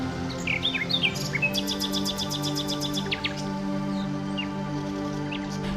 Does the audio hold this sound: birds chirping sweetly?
yes